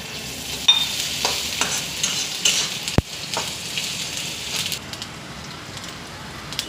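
White sesame seeds and peanuts roasting in a little oil for a ridge gourd peel chutney, stirred with steady scraping and soft sizzle, plus one sharp click near the middle; no one speaks.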